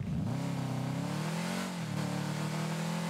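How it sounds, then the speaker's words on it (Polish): A Hot Wheels Fast 4WD car in Rocket League revs its engine, a smooth mid-pitched motor tone rising and falling in pitch across a few seconds, loud and close with no voices. "Dźwięk silnika, jak słyszymy, fajny"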